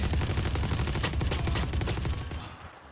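Rapid, continuous automatic gunfire from the shooter game Valorant Mobile, dense overlapping bursts at steady volume that cut off abruptly near the end.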